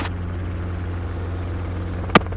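A helicopter in flight over New Orleans, heard as a steady, loud, low rotor and engine drone that does not change, with one sharp click near the end.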